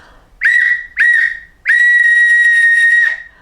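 A shrill whistle blows loudly three times, two short blasts followed by one long sustained blast, close and alone.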